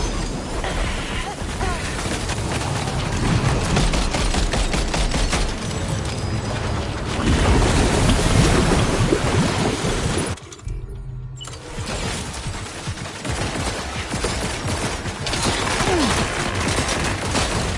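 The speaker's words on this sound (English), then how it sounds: "Opening fire." Gunfire in the video game Death Stranding 2: sustained rapid bursts and machine-gun volleys with metallic mechanical clatter and shattering impacts, loud and continuous apart from a brief lull partway through.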